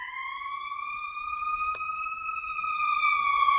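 Steady wailing emergency siren drifting in from outside through an open window, a clear rising tone held throughout and growing slightly louder, with no talk over it.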